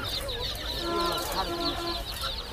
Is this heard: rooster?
yes